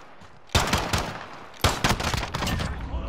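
A pistol in a Call of Duty video game fires in two loud, rapid bursts of sharp, closely spaced shots that crack close by, with a short gap between them.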